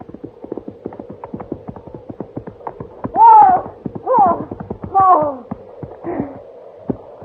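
Horse hooves clip-clopping at a steady walking pace, a crisp repeated rhythm running under brief bursts of voices, moderately close in an old Western television scene.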